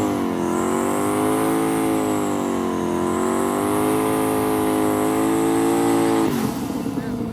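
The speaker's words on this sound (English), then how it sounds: "We got burnouts going down. Oh, Pontiac off the boot step." A Pontiac drag car does a tire burnout at a drag event, its engine roaring loud and sustained at high revs for several seconds before the note drops off near the end.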